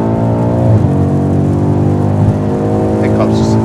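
A tuned 1000hp BMW M5 drones loudly from inside the cabin with a low, steady engine note that shifts a little in pitch rather than climbing hard, while the people in the car talk.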